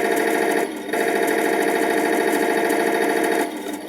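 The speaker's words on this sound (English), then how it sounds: "Here's also the machine gun sound effect." A toy RC M4A3 Sherman tank plays its machine gun sound effect, a loud rapid mechanical rattle of bursts that drops out briefly and then resumes.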